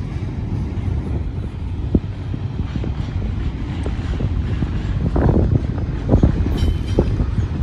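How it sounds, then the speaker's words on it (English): Strong wind buffeting the microphone in continuous rumbling gusts, loud and close, with occasional sharper bursts and no talking. "why is it so windy?"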